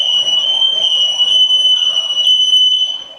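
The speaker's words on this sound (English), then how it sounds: "It took a while, but as you can see, the alarm is going off." An X-Sense Link+ networked smoke detector sounds its alarm, a loud, piercing high-pitched electronic tone that holds steadily with slight pulsing, near and continuous, with faint background noise beneath it.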